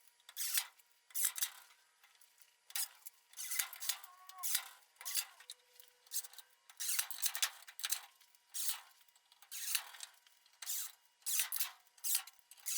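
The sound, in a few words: screws driven to secure pipe flanges to a tabletop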